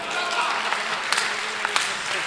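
An audience at a Hindi poetry recital breaks into applause, a broad continuous clatter of many hands with a few sharper claps standing out, fairly loud and close.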